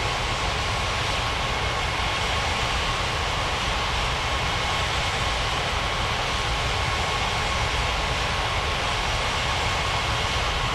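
An Alitalia Boeing 777 airliner taxiing toward the gates, producing a loud, steady broadband engine roar with a constant hiss and no breaks.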